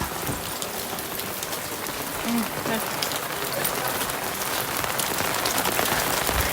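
Heavy rain pours down steadily during flooding, a dense hiss of drops pattering on surfaces that continues without a break.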